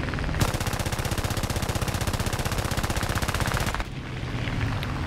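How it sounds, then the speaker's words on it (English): J11 jet's aircraft guns fire in War Thunder air arcade: one sustained rapid burst of evenly spaced shots lasting about three and a half seconds, loud and close, followed by engine roar. "Let's get our speed up, see if we can get a few shots into him"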